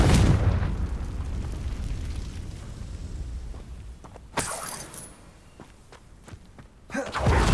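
A Confringo spell explosion in Hogwarts Legacy on Xbox Series X, a loud boom at the start that rumbles away, followed by lighter crackles and a second sharp burst near the end.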